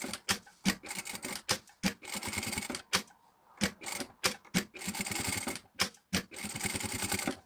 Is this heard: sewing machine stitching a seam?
yes